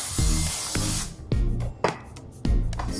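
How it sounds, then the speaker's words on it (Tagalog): Non-stick olive oil cooking spray hissing onto keto loaf dough under cling wrap, several short close bursts of spray separated by brief pauses, loud and alone. "this is also non-stick spray olive oil. Just spray on top."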